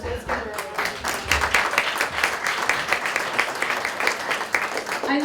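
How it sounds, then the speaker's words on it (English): An audience claps steadily at a local Chamber of Commerce gathering in Irondequoit, a dense, continuous burst of many hands filling the room, with a murmur of voices mixed underneath. "let's give her a round of applause."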